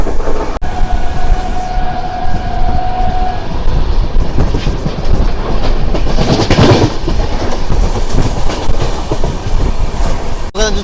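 Passenger train on the New Delhi to Chennai route running steadily on rails, a continuous loud rumble with rhythmic clickety-clack of wheels over joints, a brief high tonal squeal early on, heard from inside or close by.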